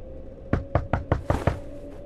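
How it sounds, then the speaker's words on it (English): Police knock at a door in The Wolf Among Us: five firm, evenly spaced raps sound close and loud over a faint steady hum. "Sounds like the police knocking at the door."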